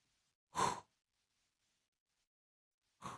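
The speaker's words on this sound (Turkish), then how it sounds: "Beş tane nefes alıyoruz böyle." Two separate breaths drawn through one nostril during a breathing exercise, each a short soft rush of air about two and a half seconds apart, with quiet in between.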